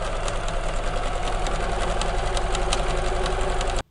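A sewing machine runs continuously while stitching a U-shaped seam on a potli bag, a fast steady mechanical whir close to the mic that stops abruptly at the end.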